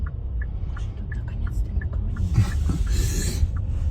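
A driving-school car on a Ukrainian driving-test route pulls away, its engine giving a low rumble that swells slightly as it moves off, with people talking over it.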